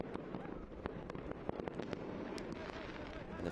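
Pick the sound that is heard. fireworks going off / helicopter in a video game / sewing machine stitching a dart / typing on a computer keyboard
fireworks going off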